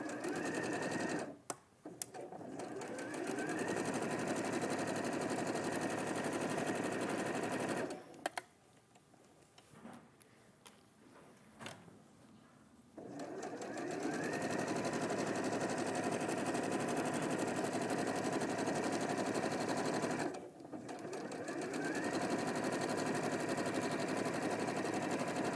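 A sewing machine fitted with a ballpoint needle stitches in loud, rapid, continuous runs, stopping briefly near the start and for a longer pause midway before running steadily again.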